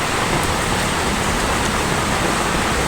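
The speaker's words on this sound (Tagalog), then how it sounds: "Hanggang ngayon po, umuulan pa rin." Heavy rain falls steadily during a storm, a loud, dense, continuous hiss of downpour with no pauses and no voices.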